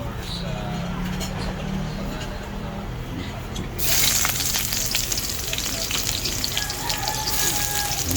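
Pork fries in canola oil with a low sizzle, then a louder, hissing crackle rises midway and continues steadily up close.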